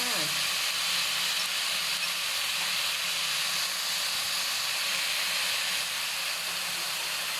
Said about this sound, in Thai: รวนให้เข้าเข้ากันนะคะ ใช้ไฟกลางค่ะ